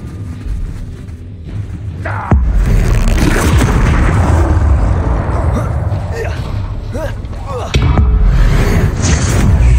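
Bombarda explosion spell and other combat spells in the Hogwarts Legacy video game: heavy booming blasts at about 2.3 and 7.8 seconds, with dense rumbling battle noise between them.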